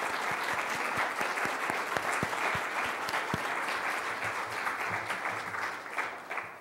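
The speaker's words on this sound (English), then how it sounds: "we'll give you a quick round of applause" A congregation at a livestream church service gives a quick round of applause, a steady wash of clapping from many hands with a few louder close claps standing out, fading slightly toward the end.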